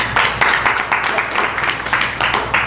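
An improv show audience claps and applauds steadily and loudly throughout, a dense crowd of hands with no speech over it.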